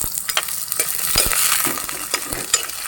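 Shallots, ginger, garlic and chilli fry in hot oil for a Kerala-style beef koorka curry, giving a continuous close sizzle broken by scraping stirs, with no voices.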